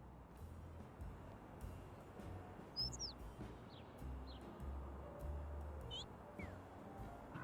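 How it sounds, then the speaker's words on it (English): Blue birds in the video game Little Kitty, Big City give a few short, faint chirps scattered over a steady low rumble of game ambience. "Just a lot of blue birds."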